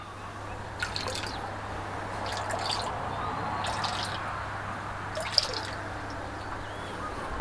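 Liquid food is poured into a tank of month-old betta fry, producing a few soft drips and splashes over a steady low hum and background water noise, close and quiet, with no talking.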